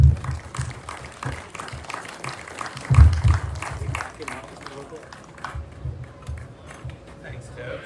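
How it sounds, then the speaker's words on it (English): Audience at an outdoor Bigfoot festival in Oakridge applauds a presenter; moderate clapping swells and fades across the stretch, with a brief louder burst midway and some low voices mixed in. "So everybody give a big warm of applause to Dr."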